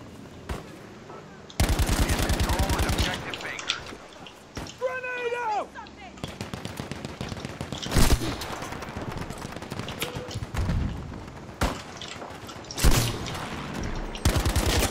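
Gunfire in Battlefield V, rapid automatic bursts and scattered shots from a multiplayer flag-capture match, loud and close at times, with a player talking over parts of the action.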